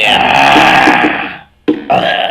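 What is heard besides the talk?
burp after chugging a beer can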